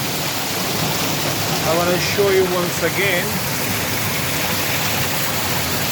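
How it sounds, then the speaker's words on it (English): A clear mountain stream flows near a waterfall in Duki District, making a steady, even rushing wash while someone talks over it. "Look at the water flow."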